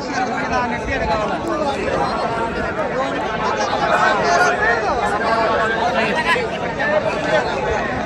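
Dense, steady babble of a large outdoor crowd gathered on the Pedgaon fairground as rain begins, many overlapping voices blending into a continuous close hubbub with no pauses.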